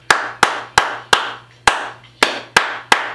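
Hand claps struck in a home studio as percussion, eight sharp, close claps in a steady, slightly uneven rhythm, each ringing briefly over a low constant hum.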